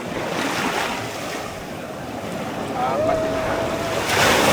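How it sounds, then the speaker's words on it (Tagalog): Loud, steady wash of strong surf and wind at a white sand beach in Bolinao, Pangasinan, with brief talk partway through and a rising roar of water toward the end. "Hindi ba ako lang kasi malakas yung alon."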